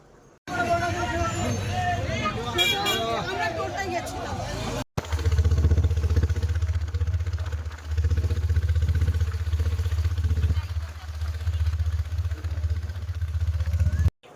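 A small engine van's motor runs with a steady low rumble while people chatter nearby over it, after a brief stretch of clattering noise.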